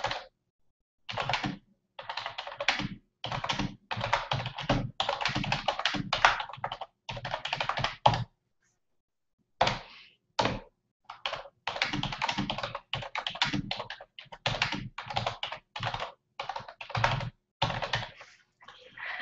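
Steady bursts of keystrokes on a computer keyboard, rapid clicking runs broken by short pauses, close and clear with almost no talking.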